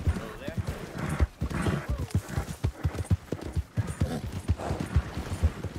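Horse hooves clip-clop at a steady walking pace on a dirt road in Red Dead Redemption 2, with an occasional snort, while someone talks over them throughout.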